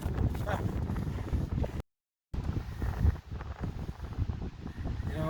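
Strong outdoor wind gusting during an oil change, heavy rumbling buffets against the microphone with a brief cut-out partway, and a voice faintly under the roar.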